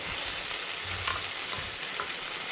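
Grated coconut is stirred into okra sautéing in a pan, giving a soft, continuous hiss of frying with faint scraping and a few light clicks, fairly quiet and with no voices.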